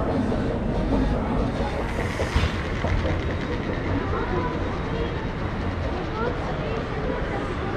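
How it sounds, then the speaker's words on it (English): A Deutsche Bahn Intercity train pulls into a German station, delayed from Binz, its broad rumble and wheel noise steady and fairly loud with a brief clank partway through. "Eventually, my train arrives from Binz in the northeast of Germany with a delay of a couple of minutes."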